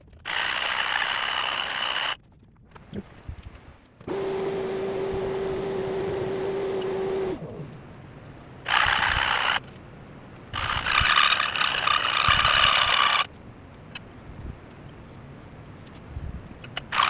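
Guitar braces for a grand auditorium build are sanded with 60 grit sandpaper in several separate bursts of harsh, loud abrasive rasping, with quieter pauses of handling noise in between.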